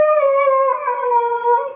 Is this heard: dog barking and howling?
yes